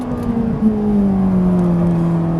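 A Ferrari 458 accelerating on a race circuit, its engine holding a loud, steady whirring drone close by that gradually drops in pitch as it pulls away.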